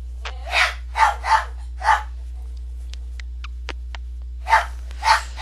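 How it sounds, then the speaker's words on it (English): Several dogs barking in a home, short loud bursts in uneven clusters with quiet gaps between them, over a steady low hum. "I'm trying to get her accustomed to the dogs because even though they're barky, they don't really want to hurt her."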